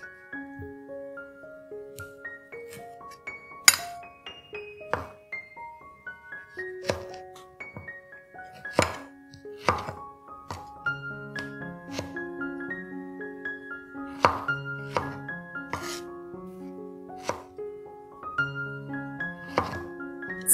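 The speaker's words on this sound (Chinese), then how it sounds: "将番茄切成丁状，" A knife dices tomatoes on a cutting board in irregular, crisp chops, some louder than others, set over soft, tuneful background music with no talking.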